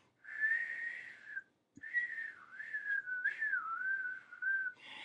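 A person whistles a wavering tune close by, with a long sustained note, a brief pause and then a gently shifting melody that ends with a short rise.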